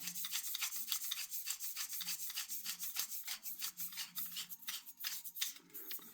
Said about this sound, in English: You get 2 aluminium shaft, which just simply screws together.